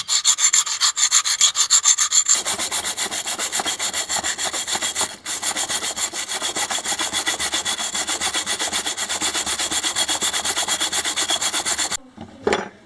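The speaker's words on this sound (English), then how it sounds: "So I'm gonna clean this guy up, get all the corrosion and stuff off it" A metal bushing is scrubbed clean of corrosion, starting with the inside, in a quick, even back-and-forth rasping rhythm that runs loud and close for about twelve seconds before stopping abruptly.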